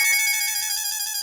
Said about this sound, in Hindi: बासुंदी का फिर से फोन।